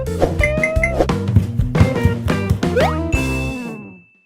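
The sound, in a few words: notification bell ding sound effect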